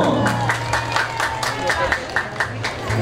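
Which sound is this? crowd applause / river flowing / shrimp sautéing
crowd applause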